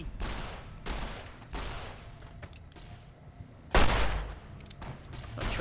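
Gunfire from the player's new guns in Fallout: New Vegas, separate bursts of shots spaced a second or so apart, with one louder, heavier blast near the end.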